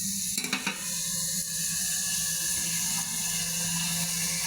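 Potato and eggplant added to a pan with browning meat, sizzling and frying steadily, with a few clattering stirring knocks at the start before a continuous close hiss.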